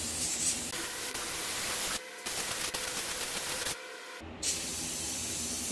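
Spray gun laying primer and paint onto utility trailer fenders, a steady close hiss broken by two brief pauses where the trigger is released before spraying resumes.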